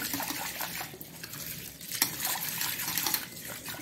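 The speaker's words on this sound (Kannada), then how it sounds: "ಪಾತ್ರೆಯಲ್ಲಿ ಹಾಕಿ ಸ್ವಲ್ಪ ನೀರನ್ನು ಹಾಕಿ ಇದರಲ್ಲಿ ಚೆನ್ನಾಗಿ" Water splashes and gurgles into a pot in uneven bursts, close by, with a brief clink partway through and no talking.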